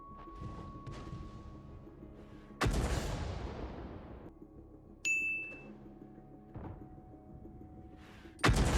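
Artillery fire in World of Tanks, a few heavy booms with long decaying rumbles separated by quieter stretches, a bright metallic ding in between and a final loud blast at the end.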